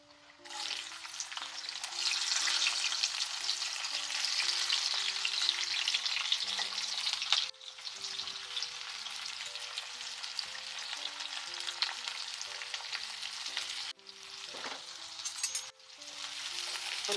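Chopped onion, capsicum and green chilli sizzle steadily in a hot pan, a continuous close frying hiss with an occasional faint clink, while soft background music plays throughout.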